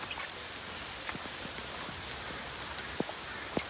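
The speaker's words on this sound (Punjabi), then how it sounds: "ਪੂਰਾ ਮੀਂਹ ਹੈ" Steady rain hisses evenly throughout, with a few distinct drops tapping sharply near the end.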